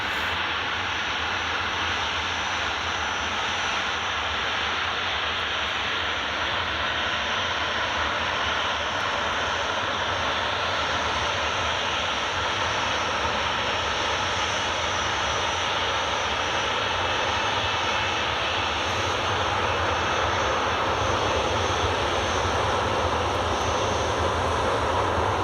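A Jet2 aircraft departs Glasgow Airport bound for Malta, its jet engines roaring in a loud, sustained broadband rush that holds steady with a faint high whine throughout.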